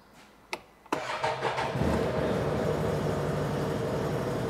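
BRP Can-Am Trail 800 side-by-side engine starting for the first time: a couple of clicks, a brief cranking, then the engine catches and settles into a loud, steady idle close by.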